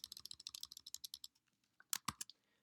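Quick bursts of keystrokes on a computer keyboard, a rapid run of light clicks followed by a brief pause and a few sharper, louder taps, all close and alone in a quiet room.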